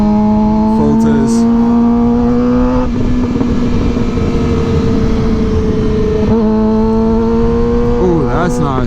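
A new Suzuki GSX-R 600 sport motorcycle engine idles close by with a steady hum, then revs hard several times, its pitch rising and falling as it sweeps up and settles back, loud throughout.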